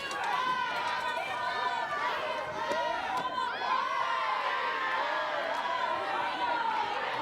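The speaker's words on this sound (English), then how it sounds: "Good crowd on hand here at the brand new softball stadium." A large crowd at a new softball stadium keeps up a steady, busy murmur of chatter with scattered shouts. The wash of voices runs unbroken through the whole stretch and stays at an even level.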